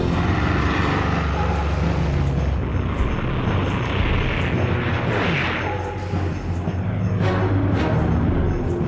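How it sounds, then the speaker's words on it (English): Military planes fly over Cairo, a loud sustained roar of aircraft engines swelling and rumbling overhead for several seconds, with heavy low booms mixed into the din. "Nasser hears planes in the skies above Cairo."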